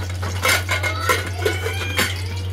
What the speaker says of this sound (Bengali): এটা আমি প্রেসার কুকার বন্ধ করে দিচ্ছি